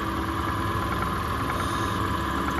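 A car engine fitted with an Accel 59130 performance HEI distributor runs steadily at about 2200 RPM, a continuous close rumble with even mechanical hum and no talking.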